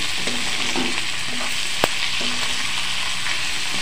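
Tomatoes with salt and spices sizzle steadily in a pan for a Bihari-style dum aloo, while a spoon scrapes and stirs in short strokes, with one sharp clink against the pan midway; no talking.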